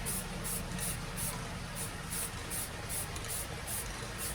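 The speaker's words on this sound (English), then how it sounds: "I'm aiming this spray paint right at that line, and I'm going across in short bursts" A spray paint can hisses in a long run of short bursts, about ten evenly spaced puffs over a steady background of noise, close up, as paint goes across a line on a tumbler.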